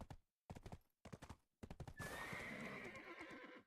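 A horse in a video game: sharp, close clip-clop hoof beats in short spaced bursts, then a loud, long whinny that swells and trails off.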